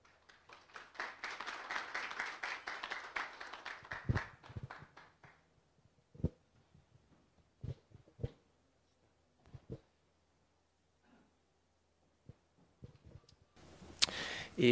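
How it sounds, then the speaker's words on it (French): Audience applause for Dan Brahmy, co-founder and CEO of the Israeli start-up Cyabra, at a Morocco event: a dense burst of clapping fades over about five seconds into scattered claps and taps, then quiet. "Merci de l'applaudir"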